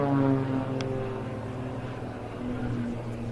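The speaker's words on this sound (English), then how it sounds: "both aircraft will now turn back towards each other for the final opposition pass of the display" Aerobatic display aircraft flying overhead at an air festival, a steady droning engine note with a slowly shifting pitch, moderately loud and continuous throughout.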